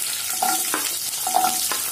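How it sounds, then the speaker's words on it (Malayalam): Curry leaves, small shallots and garlic cloves sizzle in hot oil for a brinjal tamarind curry, a close, steady hiss broken by two short stirring scrapes. "ഇനി ഇതിലേക്ക് കറിവേപ്പില ചേർത്ത് കൊടുക്കുക, കൂടെ 15 ചെറിയുള്ളിയും 7-8 വെളുത്തുള്ളിയും ഇതിലേക്ക് ചേർത്ത് കൊടുക്കുക."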